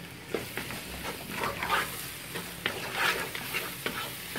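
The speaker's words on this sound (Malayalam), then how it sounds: "നമുക്ക് ഇതൊന്ന് ഇളക്കിയിട്ട് അടച്ചു വെക്കാം." Curry leaves and onions fry in a pan of Kerala-style mutton curry, stirred with a steady sizzle and repeated scraping pushes of a spoon about every half second, close and clear, with no talk.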